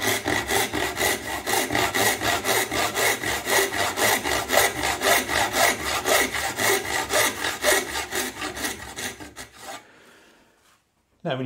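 A new, budget dovetail saw with slightly coarse teeth cuts into wood in steady, even back-and-forth strokes. The close rasping continues for about ten seconds, then stops.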